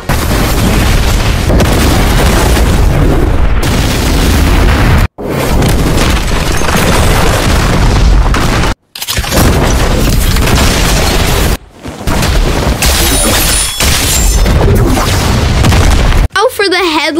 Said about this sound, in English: Now for the demon moveset. This one's going to be cool with crazy fire effects.